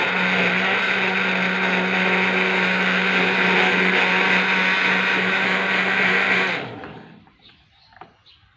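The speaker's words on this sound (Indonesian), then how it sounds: "Semua ini daun-daunan tadi kita blender habis." A kitchen blender chops leaves for catfish feed with a loud, steady whirring drone for several seconds, then switches off and winds down, leaving a few faint knocks afterward.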